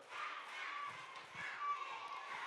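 A children's congregation at a church prayer gathering claps together in steady, dense applause that sounds fairly faint and distant.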